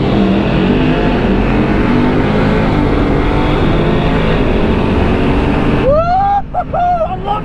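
A Dodge Challenger SRT Demon 170 at Beech Bend Raceway drag strip roars at full throttle in a loud, sustained engine blast, then cuts off abruptly as wind noise and a whoop take over near the end.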